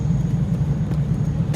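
A TVR Chimaera sports car drives along a road, its engine giving a loud, deep, steady rumble heard from close by inside the car, with no talking.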